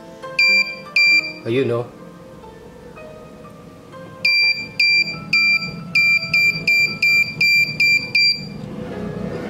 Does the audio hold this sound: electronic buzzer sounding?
yes